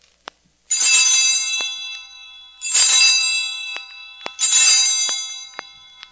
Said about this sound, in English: During the elevation of the host, he rings the bell three times